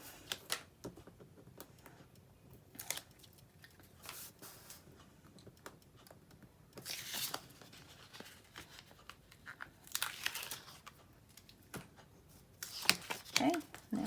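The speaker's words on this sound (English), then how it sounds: "I'm going to add some extra tape down the center. I'm going to go ahead and get this peeled off." Tape being peeled off a craft project for sticky notes with an elastic closure: intermittent short tearing and crinkling bursts, quiet and close, clustered toward the end, with soft handling noise between.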